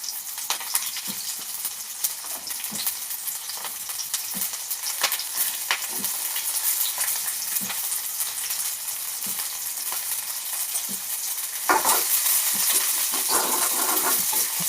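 Chopped onions and green chillies fry in hot oil, giving a dense, continuous sizzle and crackle that holds at a steady level, with scattered small pops and a brief louder surge near the end, close and with no voices.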